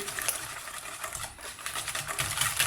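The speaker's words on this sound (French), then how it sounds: "On vient mélanger." Eggs being mixed into clafoutis batter in a bowl, giving a rapid, continuous clinking and scraping patter at moderate volume with no talk.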